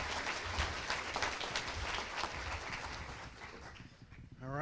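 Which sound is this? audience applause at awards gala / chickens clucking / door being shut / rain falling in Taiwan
audience applause at awards gala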